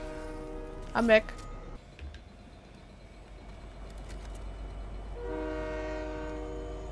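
Train pulling in within the Fortnite Chapter 5 Season 2 game, a loud horn-like tonal blast near the start, then a rising rumble and sustained tonal hum as it arrives, with players talking over it.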